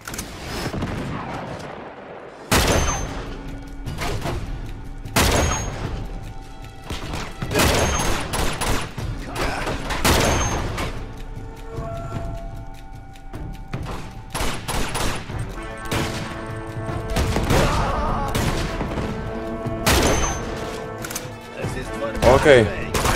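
Shotgun blasts in Uncharted 2: Among Thieves, a series of loud, sharp booming shots spaced a few seconds apart amid game effects, with someone talking over them.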